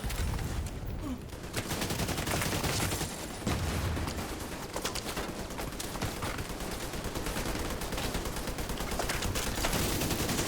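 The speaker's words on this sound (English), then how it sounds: "Can you stop shooting me?" Rapid, dense gunfire from a video game shootout, bursts of automatic fire and shots running continuously and loudly throughout with no letup.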